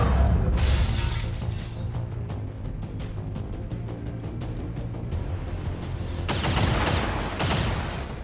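A flashbang grenade goes off in XCOM 2: War of the Chosen, a loud shattering burst followed by crackling debris and rumbling game ambience, with a second bright burst of noise near the end.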